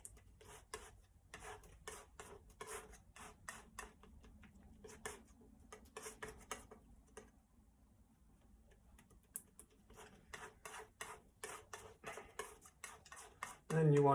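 Oil paint, raw umber with a little black, being mixed on a palette with a knife, giving soft rhythmic tapping and scraping strokes that run steadily close up, with a louder knock at the end.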